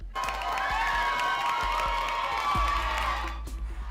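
A large crowd cheers, whoops and shrieks after Canada's Olympic gold medal soccer win at Tokyo 2020, a dense roar of high excited voices with some applause throughout, fading toward the end.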